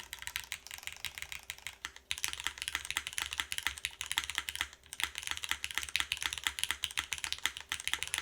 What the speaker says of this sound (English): Keyboard still sounds fantastic though.